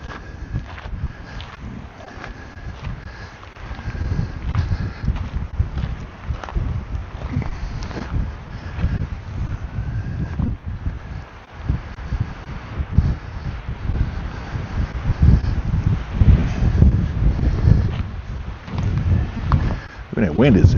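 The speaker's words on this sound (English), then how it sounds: "That wind is crazy up here." Strong gusty wind at a Grand Canyon overlook buffets the microphone in a constant loud, low roar that swells and dips throughout, with voices faintly present beneath it.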